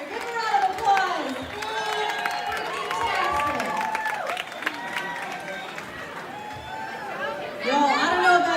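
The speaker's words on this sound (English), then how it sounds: "round of applause." Audience at an Art Battle live painting competition in Wichita Falls claps and cheers amid loud crowd chatter and nearby voices, with the noise swelling again near the end.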